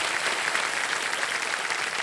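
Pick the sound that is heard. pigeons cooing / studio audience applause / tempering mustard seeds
studio audience applause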